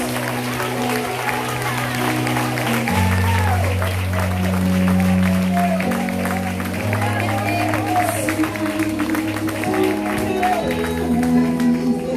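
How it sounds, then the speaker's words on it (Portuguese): A church congregation at a women's congress applauds in praise, a steady wash of crowd clapping and scattered shouts under sustained music and a voice, continuous for about twelve seconds. "Aplaude o nome de Deus"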